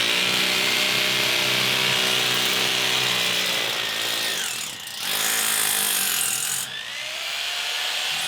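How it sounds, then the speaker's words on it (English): A power drill bores a hole into concrete for a masonry screw, grinding loud and continuous in close range, with a short dip midway and a brief slowdown near the end. "I'm going to start drilling this hole now"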